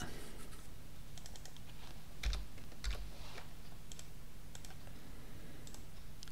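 Typing on a computer keyboard, quick irregular key clicks in short bursts, close and fairly quiet against a low steady background hum.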